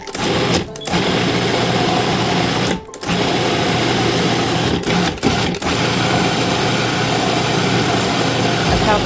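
A food processor whirs loudly as it chops sofrito ingredients, running in bursts broken by several short pauses, close and dominant.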